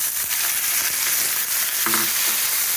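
Mustard greens frying in oil with garlic and green chilli, a loud continuous sizzle with a brief tonal clink of a utensil near the end, no talk.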